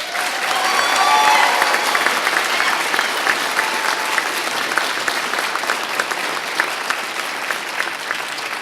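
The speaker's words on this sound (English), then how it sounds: "Ladies and gentlemen, how about a big round of applause?" Audience applause at a recruit fire academy graduation ceremony fills the hall in a steady, dense patter. It swells slightly early on and holds strong for about eight seconds, with a few faint voices underneath.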